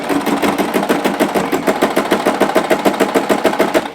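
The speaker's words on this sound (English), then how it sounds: "we're aiming just to stitch it quite close to the edge of the fold" A sewing machine runs continuously and loudly up close, its rapid regular needle pulses stitching a narrow rolled hem along the edge of a fold in the fabric, with no talk.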